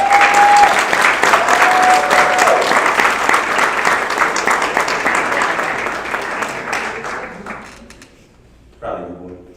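An audience at a graduation ceremony applauds as a graduate receives his certificate: sustained, full clapping that gradually thins and dies away, followed by a brief voice.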